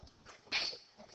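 A single quiet sneeze bursts out midway through a faint background, brief and somewhat distant, in a room where someone is working through a math problem.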